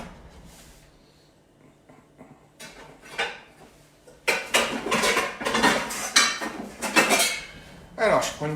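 Metal pots and dishes clatter and clink as a saucepan is pulled out from among them, quiet rummaging first, then a series of loud close metallic knocks and scrapes.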